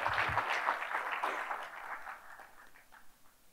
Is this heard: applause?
yes